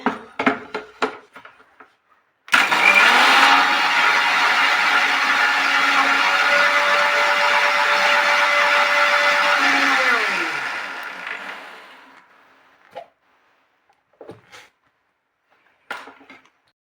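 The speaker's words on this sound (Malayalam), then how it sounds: "മിക്സിയിലടിച്ച്" An electric mixer grinder whirs loudly for several seconds, blending passion fruit juice, then winds down; a few light clicks and knocks come before and after.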